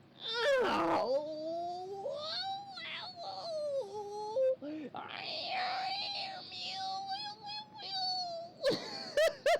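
A human voice mimics a dying cat, drawing out a long wavering wail with moaning, whimpering pitch slides, close and loud, broken by a brief pause midway and ending in a few sharp bursts.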